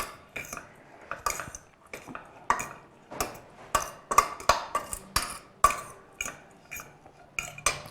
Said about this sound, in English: go ahead and mix it all up so we get all the seasoning, the onions, the basil